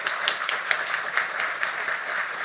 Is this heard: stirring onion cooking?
no